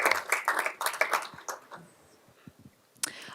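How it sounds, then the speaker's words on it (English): Applause at a school board meeting comes as several bursts of clapping that fade into scattered claps, then a brief final burst, with no talking. "one more round of applause"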